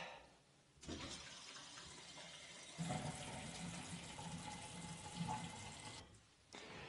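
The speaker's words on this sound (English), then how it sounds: "that is a beautiful pour of Nitro cold brew coffee" Nitro cold brew coffee streams steadily from a tap in a hissing, foamy pour, regulator at 28 psi, starting and stopping a couple of times, close by with no talking.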